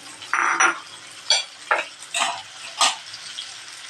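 Salted egg is added to a pan for sautéed bitter melon and stirred, giving a few distinct scraping and sizzling strokes at an irregular rhythm, close and clear with no talking.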